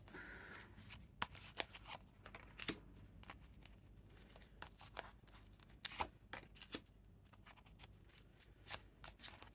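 Tarot cards being pulled from a deck and handled up close, with soft, quiet papery flicks, slides and shuffling rustles in irregular bursts.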